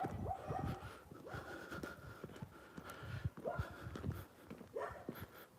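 A small dog in a village near Anapa on Russia's Black Sea coast gives soft whimpers, snorts and short low barks, faint and close, amid scuffling footsteps and breathing.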